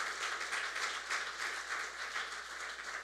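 Congregation applauding during a Sunday church service, a dense, even roar of many hands clapping together, steady and sustained with gentle swells, heard from some distance in a reverberant hall.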